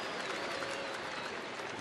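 A large home crowd at a Texas Rangers baseball game against Detroit applauds for Yu Darvish and the Rangers, dense and continuous clapping and cheering filling the stadium.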